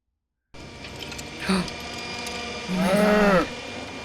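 Cattle lowing heard twice in a dinosaur film scene: a short moo-like call, then a longer, louder drawn-out bellow, over steady background sound with no speech.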